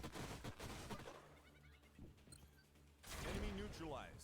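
Gunfire in the turn-based strategy game Age of Wonders: Planetfall, bursts of shots and impacts crackling at moderate volume, mixed with game effects and someone talking over them.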